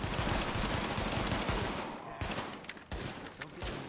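Gunfire in Tom Clancy's The Division, rapid automatic bursts of loud shots rattling continuously, then thinning into scattered sharper cracks with short gaps toward the end.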